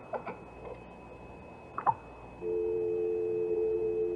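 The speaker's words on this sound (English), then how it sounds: "It's just a dial tone." After a few faint clicks and taps, a steady telephone dial tone starts and holds continuously, quiet and close, in an old-time radio drama.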